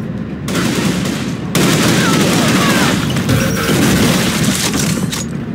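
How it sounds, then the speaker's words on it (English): Heavy gunfire and booming explosions from Unreal Tournament III, a loud, dense continuous barrage of rapid shots and blasts with a brief lull near the start. "I'm taking heavy fire!"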